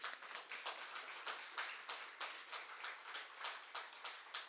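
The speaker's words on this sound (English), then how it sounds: "I think we should clap." Applause from an audience in a lecture hall at the Nehru Centre, a steady patter of many hands clapping at moderate distance, fairly soft and without speech, sustained evenly throughout.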